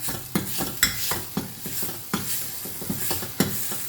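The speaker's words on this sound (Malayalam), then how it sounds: "ഉപ്പിട്ടിട്ട് ഒന്ന് ഇളക്കാം" Curry in a pan being stirred after salt goes in, with a series of sharp spoon scrapes and knocks at an uneven rhythm over a low background sizzle, up close and without speech.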